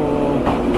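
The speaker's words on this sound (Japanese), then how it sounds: "電車来た。" A Shinano Railway train passing at a station gives a brief, steady, close rumble of wheels and motor, with no voices.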